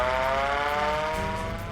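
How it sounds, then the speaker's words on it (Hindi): A loud, steady wailing siren with a strong harmonic tone holds throughout, a civil defense air-strike alert siren sounding continuously during a nationwide mock drill in India. "सायरन बजा तो सिविल डिफेंस तुरंत एक्टिव हो गया"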